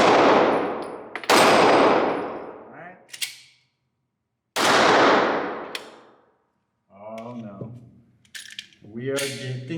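Glock 42 and Glock 43 pistols fire at an outdoor target, with several sharp, loud shots separated by pauses and a voice speaking between them.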